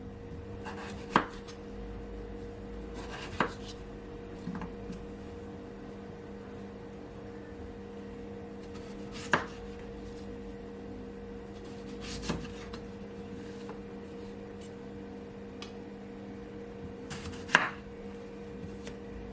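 A knife slices through unpeeled washed potatoes on a cutting board, producing sparse, irregular sharp chops at close range over a quiet kitchen hum.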